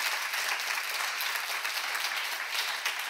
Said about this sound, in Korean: 지금 박수를 하겠어요